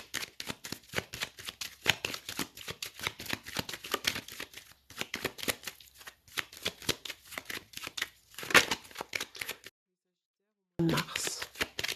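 A tarot deck cut and shuffled at close range, a steady stream of papery slaps and riffles, with a speaking voice now and then, a short silent gap near the end, and more shuffling afterward.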